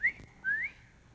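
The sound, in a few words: person whistling, imitating catcalls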